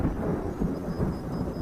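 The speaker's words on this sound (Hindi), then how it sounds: "बारिश हो रही थी।" Heavy rain with rolling thunder as a storm sound effect in a spoken horror story, a dense, continuous low rumble and hiss of downpour heard alone without any voice.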